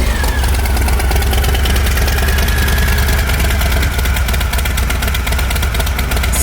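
A Harley-Davidson Low Rider S with a new Horsepower Inc exhaust rumbles loud and close, a continuous throaty idle with rapid pulsing firing beats and no talking.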